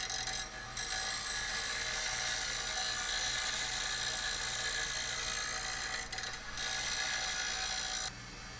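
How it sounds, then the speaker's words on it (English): A bench grinder grinding down a PVC pipe end cap, a continuous harsh high whir with brief dips as the workpiece is lifted away and pressed back, close and loud, no talking. "So I took it over to my grinder, and you'll see that I grind it down"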